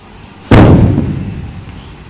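A bomb goes off in the Chicken Gun video game: one sudden loud blast at about half a second, then a long rumbling decay that fades over the rest of the clip, with no talking.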